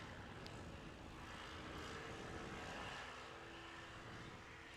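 A STOL airplane growls steadily through a short takeoff of under 50 feet at an Appalachian Mountain STOL competition, its rough broadband roar loud and constant from start to finish with no voices over it.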